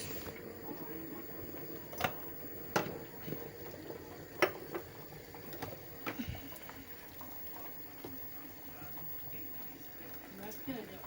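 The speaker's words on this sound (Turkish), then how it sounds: "Şerbetimiz kaynıyor." A pot of sugar syrup for pistachio baklava bubbles quietly in a kitchen, with soft irregular pops and clicks over a low background hum; faint talk and handling noises occur.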